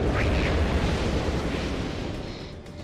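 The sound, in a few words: mortar attack explosions in video game Legaia 2: Duel Saga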